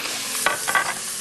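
Minced meat hitting a hot pan for a zucchini moussaka tray with béchamel, a loud close hiss with a couple of brief crackling bursts.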